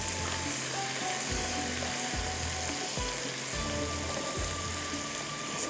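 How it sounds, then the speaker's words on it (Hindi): Ginger garlic paste fries in a pan for potato and sesame kebabs, giving a steady, close sizzle throughout with several low thumps from stirring or scraping at regular intervals. "अदरक लहसुन का पेस्ट डाल देते हैं, थोड़ा सा इसको भी फ्राई करते हैं यहाँ पर"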